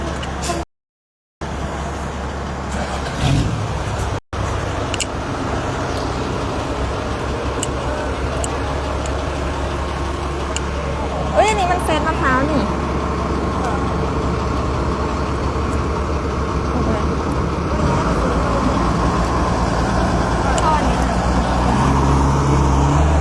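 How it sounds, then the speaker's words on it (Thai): An old Japanese Komatsu WR11 wheel loader hums steadily at a delivery site, its loud, continuous engine drone lasting throughout, with a brief drop near the start and faint traffic-like noise around it. "วันนี้เดี๋ยวเราจะพามาดูบรรยากาศการส่งมอบรถนะคะที่เป็นรถตักล้อยางรุ่น WR JS นะคะ JSR นะคะ ซึ่งเป็นรถตักเก่าญี่ปุ่นนะคะ ของโคมัสุนะคะ"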